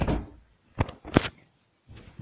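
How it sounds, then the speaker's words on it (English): A door being shut during a game, heard as a soft thump at the start followed by two sharp close knocks and a faint bump at the end, with no talking. "Shut the door. It's kind of annoying."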